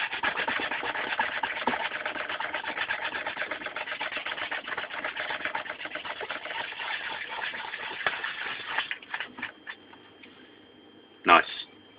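Wet and dry sandpaper rubbing rapidly back and forth to flatten a part of a Lotus 72 model racing car, a steady close rasping that slows and stops near the end, followed by one brief sharp knock.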